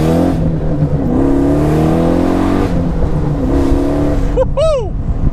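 A 700hp Pontiac Solstice nicknamed the "Slowstice", a sub-3,000-pound car with 550 horsepower at the motor, revs hard and pulls away, its loud engine note climbing through the gears with a brief tire chirp near the end.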